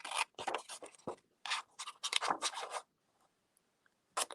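Scissors snip through a paper border in short, close bursts of cutting strokes, pausing briefly before a final snip.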